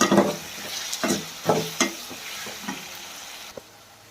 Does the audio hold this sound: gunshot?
no